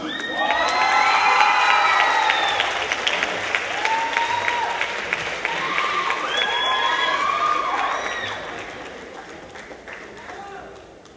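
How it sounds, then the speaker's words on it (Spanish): A concert audience at the Teatro de la Reforma in Matamoros claps and cheers to welcome the singer. Loud, sustained applause fills the hall, with whoops and shouted voices rising over it before it slowly fades. "Quiero que reciban con un fuerte aplauso a mi amiga"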